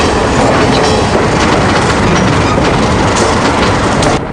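Canadian Pacific steam locomotive 1293 rolls along the Cuyahoga Valley Scenic Railroad, a loud, dense, continuous rumble and clatter of wheels on rails close by, with a faint rhythmic clack beneath the roar.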